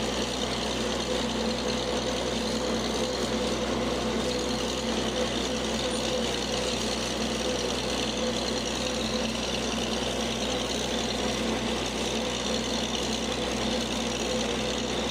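A steady, droning Oliver Super 77 tractor engine runs continuously at close range across a field, a constant rumble with a faint knocking texture and no talk.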